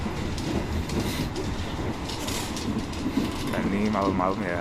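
Inside the Argo Bromo Anggrek executive passenger train at night, a continuous low rumble and rail noise rolls steadily under a voice speaking close by.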